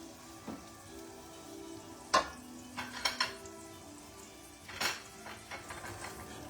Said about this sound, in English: now I've melted the butter